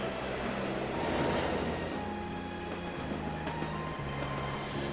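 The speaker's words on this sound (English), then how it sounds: "Oh, our first little animated scene of the train. We're heading into Crossbell." Steady rumbling rush of a train in the Trails From Zero animated cutscene heading into Crossbell, a continuous rolling drone with faint rhythmic clacks under a soft musical score, no talk.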